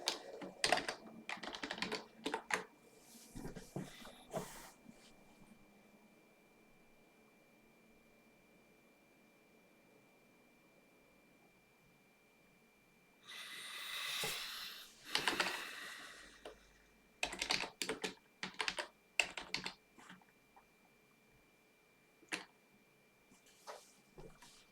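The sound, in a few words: typing on a computer keyboard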